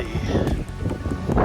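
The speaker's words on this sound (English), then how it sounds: "wind blowing and gusting around here." Chilly wind gusts outdoors by an oceanfront hotel construction site in Myrtle Beach, a rough, buffeting roar across the microphone that surges and eases in quick, uneven bursts.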